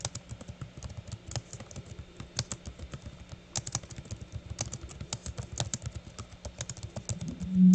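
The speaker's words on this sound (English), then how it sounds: "Sound like somebody's typing." Fingers type on a computer keyboard in a steady run of close, crisp key clicks with small pauses, quiet and heard alone, ending in a brief louder bump.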